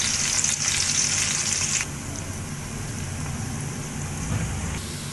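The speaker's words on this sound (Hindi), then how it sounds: "मैंने यहाँ ऑयल गरम कर लिया है कि मैंने 3 स्मॉल साइज ऑनियन ले ली है।" Onions frying in heated oil, a steady broadband sizzle with a brighter hiss for the first two seconds that then settles to a softer, continuous crackle, close and alone without talk.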